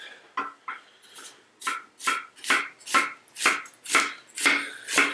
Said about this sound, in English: See me chop onions.